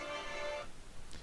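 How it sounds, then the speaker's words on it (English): A mobile phone ringtone sounds briefly nearby, a steady electronic tone lasting under a second before cutting off, with quiet room noise after. "That's my phone."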